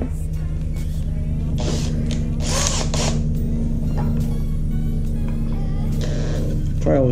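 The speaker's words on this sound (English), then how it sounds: "I'm gonna screw this on." A power drill drives a screw into oak during pantry construction, a steady motor whine with a strong low hum running throughout, loud and close, with bursts of higher grinding as the screw bites.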